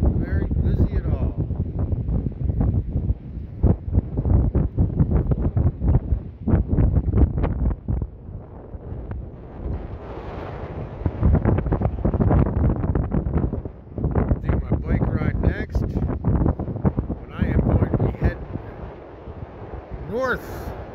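Wind buffets the microphone on a quiet beach boardwalk, a continuous rough rumble with gusting surges throughout.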